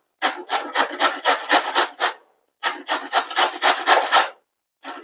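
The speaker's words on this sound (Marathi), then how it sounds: "हे बघा, मी बारीक चाळणीने किसून घेतले, बघू शकता." Radish being grated on a fine grater, a close, crisp rasping in quick rhythmic strokes, two long runs separated by a brief pause, with no talking.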